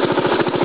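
A Craftsman lawn tractor's small engine chugs close by in a brief, steady burst of low, rapid, regular pulses.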